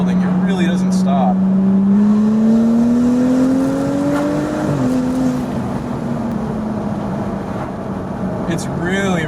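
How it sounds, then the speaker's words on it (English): A Stage 2 tuned BMW 435i engine drones loud and close as it pulls through the gears, pitch climbing steadily then dropping at a shift before building again, with road and wind noise around it. "as you shift into every single successive gear, the power just keeps building and the speed keeps on building"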